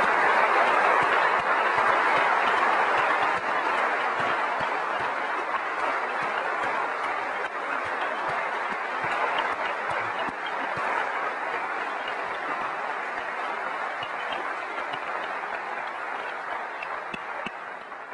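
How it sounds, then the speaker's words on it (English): Sustained audience applause at a Macworld keynote in San Francisco, a large crowd clapping steadily and densely for many seconds, gradually softening toward the end. "I'd like you to join me in giving a round of applause to the software team, to the hardware team,"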